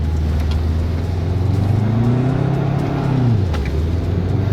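A Subaru Forester Turbo engine revs up in winter, its pitch rising then falling as it accelerates, loud and steady with a constant road rumble underneath.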